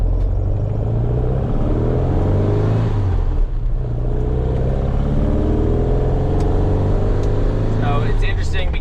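A 1961 VW Beetle drives and accelerates on a road, its air-cooled engine rumbling low and rising in pitch through the gears, with someone talking over it throughout.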